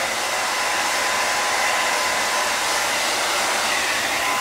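Heat gun blowing hot air onto vinyl wrap being stretched over a 2004 Mustang GT, a steady, loud, broadband whoosh that holds constant throughout with no talking.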